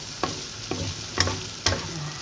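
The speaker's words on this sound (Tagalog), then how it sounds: "Tapos saka mo ipa-fry ang fried rice." Fried rice with pork being fried and stirred in a pan, a constant sizzle broken by four sharp scraping knocks of the utensil against the pan, close and alone.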